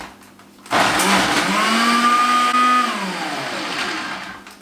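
A blender whirs loudly through hummus ingredients with tahini, starting abruptly after a quiet moment and holding a steady, strained motor drone whose pitch rises and then sags slightly as the thick mixture churns.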